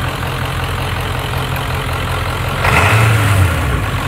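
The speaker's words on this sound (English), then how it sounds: "Let's get that shot of how the engine sounds." A diesel engine running on fuel made from plastic idles up close with a steady low rumble, briefly swelling louder near the end before settling again.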